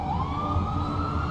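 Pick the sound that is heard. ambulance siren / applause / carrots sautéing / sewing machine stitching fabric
ambulance siren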